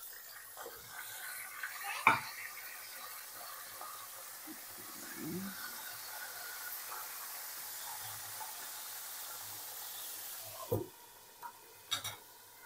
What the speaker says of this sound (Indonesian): dan ini akan aku goreng sekarang